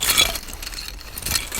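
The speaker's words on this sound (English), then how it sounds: "Here's the sound of me moving some of my old Legos." Old LEGO bricks are shuffled and moved, giving brief light plastic clicks and clatters at the start and again near the end, close and fairly soft, with no voices.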